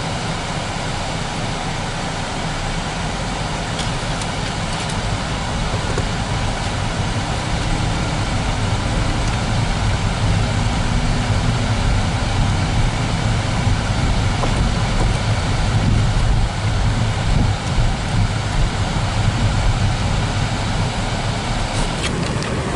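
Steady car engine drone and road rumble fill the cabin while driving, a constant close wash of low noise with no talking.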